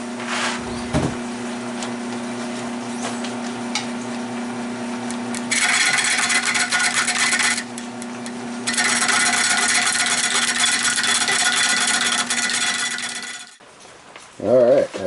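A wood lathe turns a white pine bowl with rotten spots at slow speed, a steady low hum carrying continuous scraping and rasping of the tool cutting, loud and close, ending in a few brief knocks.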